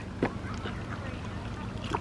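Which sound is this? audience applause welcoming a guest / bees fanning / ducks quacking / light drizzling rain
ducks quacking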